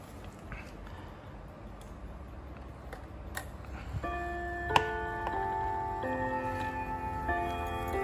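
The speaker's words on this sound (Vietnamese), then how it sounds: "Tiếng chuông nghe rất là hay." A Seiko semi-automatic wall clock with a transistor movement and five gongs struck by five hammers ticks faintly, then rings out with layered, sustained chime tones that ring on together.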